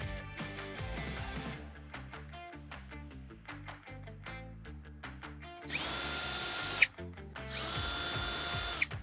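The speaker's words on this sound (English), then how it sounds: "Use a 10mm socket and perhaps a power drill to speed things up." A power drill fitted with a 10mm socket removes underbody panel fasteners on a 2021-2026 Ford Mustang Mach-E during a trailer hitch installation. Two sustained, loud high-pitched whirring bursts follow earlier clattering and tapping.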